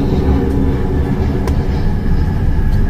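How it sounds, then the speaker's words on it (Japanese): A loud, steady roar from an airplane passing low overhead fills the moment, a dense rumbling drone with no speech over it. "ここ飛行機通るからうるさいんだよね。"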